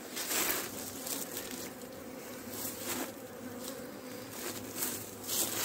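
Honeybees buzz around a small nucleus hive, a close, continuous swarming drone with individual insects flitting by, without any talk.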